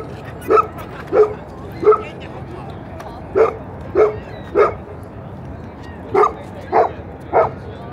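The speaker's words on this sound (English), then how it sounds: "Ooh, that's a collie." A collie dog barking outdoors in Toronto, nine short sharp barks spaced in loose groups of three, close and fairly loud over a low steady street hum.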